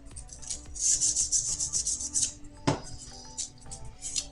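A file rasps along the sharp edges of cast airsoft gearbox shells for an ARES Amoeba AM 013 build, close and scratchy in quick back-and-forth strokes, broken by one sharp knock, then lighter strokes.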